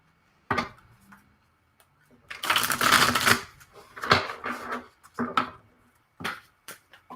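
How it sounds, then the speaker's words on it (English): Tarot cards being shuffled by hand, several bursts of crisp riffling and tapping separated by short quiet gaps, close and fairly faint. "It's going to shuffle my cards."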